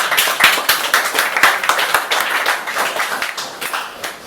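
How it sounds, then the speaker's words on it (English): Audience applause at an open-mic evening, a dense run of hand claps with sharp individual slaps standing out, steady and fairly close throughout. "So let's give you another round of applause."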